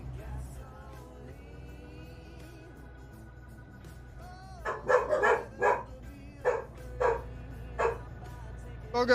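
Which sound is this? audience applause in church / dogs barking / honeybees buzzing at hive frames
dogs barking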